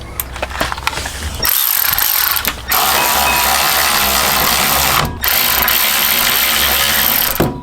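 Power tool driving the brake caliper bracket bolts tight on the rear brakes of a Mk6 GTI, a loud near whirring ratchet in two long sustained runs, briefly pausing between them, with no talk.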